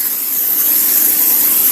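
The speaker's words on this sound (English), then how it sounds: "I'm gonna just give it a quick spray with some pan" Cooking spray hisses steadily onto a mini muffin pan in one short, loud, continuous burst with no pauses, heard close up and alone.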